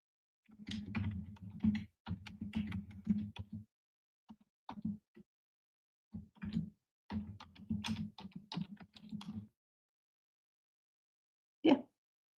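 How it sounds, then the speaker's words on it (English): Typing on a computer keyboard, close and quiet, in several quick bursts of clicking keys separated by short pauses, ending with one firm isolated keystroke. "I'm going to type this in."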